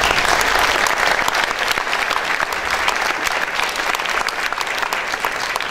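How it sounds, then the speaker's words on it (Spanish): Audience applause in a hall at an international children's and youth piano competition festival, a loud continuous roar of many hands clapping with no talking, holding steady throughout. "Quiero un gran aplauso para él"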